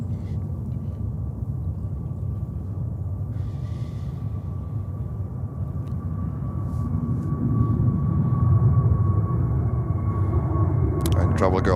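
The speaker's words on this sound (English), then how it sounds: "Korean 777 that is lining up next on runway 22 right" Korean Air Boeing 777 on runway 22 Right at JFK, a low continuous engine rumble with a steady whine that swells toward the end, heard at a distance under ongoing talk.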